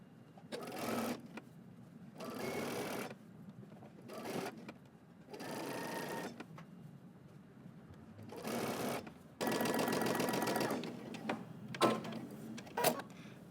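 A sewing machine stitching bias binding along a garment's armhole edge, running in several short whirring bursts separated by pauses, the last stretch longer and louder, with small clicks between.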